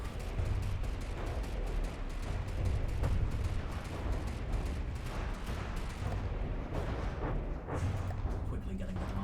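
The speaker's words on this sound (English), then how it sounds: "One of the real guns is opening up again." Big guns firing in the From the Depths naval combat game, a dense, continuous barrage of heavy booms and rumbling blasts throughout, loud and sustained.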